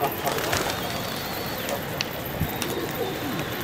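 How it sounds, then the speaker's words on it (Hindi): Pigeons coo softly among a flock of wild pigeons, a low, faint murmur half-buried in steady outdoor hiss and rustling. "ये वाला कबूतर है व्यूअर,"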